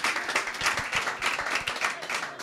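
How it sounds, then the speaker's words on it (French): A crowd at a New Year's Eve live club show applauds performers, the clapping moderately loud with distinct individual claps audible in an uneven rhythm throughout. "est-ce qu'on peut les applaudir encore à nouveau, s'il vous plaît"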